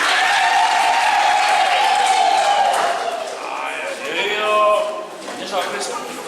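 Wedding guests applaud after the marriage certificate is shown, a sustained patter of clapping with voices and cheering mixed in, tapering off toward the end.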